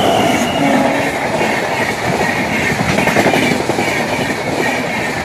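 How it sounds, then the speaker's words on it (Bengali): A train rolls past a rural level crossing, its wheels clattering in a continuous loud rumble with rhythmic clickety-clack, close by and steady throughout with no voices. "রেলওয়ের গেট পড়েছে, ট্রেন আসছে"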